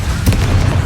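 A Confringo blasting spell goes off in Hogwarts Legacy, giving one short, loud boom with a low rumble that fades quickly.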